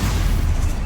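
A Stupefy spell cast in Hogwarts Legacy lands as a short, forceful booming impact with a deep thump, loud and close.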